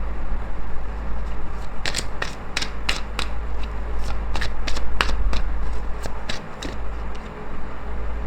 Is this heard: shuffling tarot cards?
yes